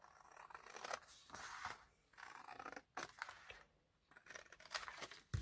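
Paper being cut with scissors while making a small mini album, several separate snips and crisp crunching cuts at close range with brief pauses between strokes, no talking.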